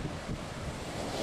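Cold, rough ocean surf washes onto the coast at Cape Kiwanda as a steady, broadband roar, with wind buffeting the microphone throughout.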